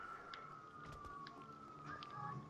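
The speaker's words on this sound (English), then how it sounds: "Oh my god, there's 10 police cars here." Police car sirens in GTA 5 Online wail steadily in the background, faint and slightly falling in pitch, with scattered clatter and small noises around it.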